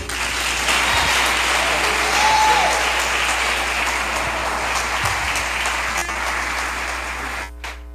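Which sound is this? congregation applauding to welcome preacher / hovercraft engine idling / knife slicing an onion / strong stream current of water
congregation applauding to welcome preacher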